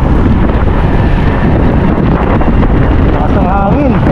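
Strong wind buffets a microphone on a wet street after rain, a loud, steady roar that fills the whole stretch, with a voice speaking faintly underneath near the end.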